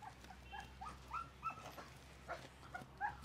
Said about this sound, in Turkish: Bunlar bizim eskiden dağlarda olan köpekler. Anadolu köpekleri.